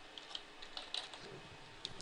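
Fast typing on a computer keyboard: a quiet, close run of light key clicks with a few sharper taps, irregular in rhythm, with no voice over it.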